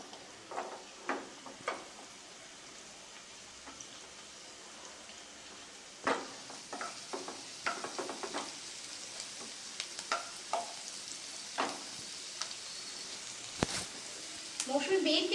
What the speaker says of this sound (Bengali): ততক্ষণ এটা ভাজা হোক।